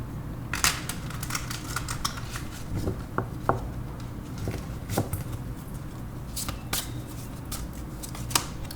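Tarot cards being shuffled and drawn, close up, with a run of crisp rapid flicks and snaps scattered through the stretch over a faint low background hum.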